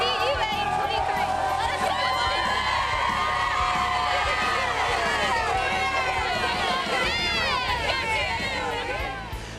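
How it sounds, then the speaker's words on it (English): A high school cheerleading squad shouts and cheers together, loud and close, at a Friday night football broadcast, with crowd babble filling in beneath their voices. "The Thompson cheerleaders cheering us on."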